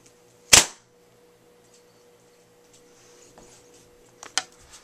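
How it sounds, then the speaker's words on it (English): A Marksman slingshot fitted with a Daisy replacement band fires a marble at a magazine: one loud, sharp snap of release near the start, then quiet, then a smaller impact crack and handling noise later. "We'll be shooting this magazine with this marble."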